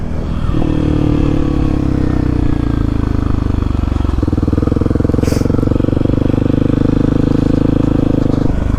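A motorcycle engine runs steadily and loudly while riding on a warm day, with a continuous close rumble that shifts slightly in pitch, and brief scraping clatter partway through.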